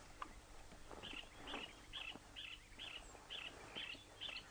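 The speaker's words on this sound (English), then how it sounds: "It's the Woody Woodpecker's song." Bird song likened to Woody Woodpecker's call, from a bird with a streaky breast, yellow-spotted back and brown forehead: a faint, evenly spaced series of about eight short high notes over outdoor background noise.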